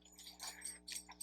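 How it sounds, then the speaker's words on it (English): Dogs whimpering faintly in the background indoors, a few soft high whines and yips rising and falling over a low steady hum, distant and quiet. "Sorry about the dogs in the background."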